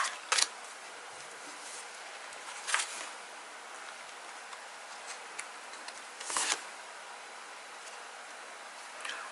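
Tarot cards are shuffled and drawn, giving quiet papery rustles with a few sharp snaps and flicks spread through the clip.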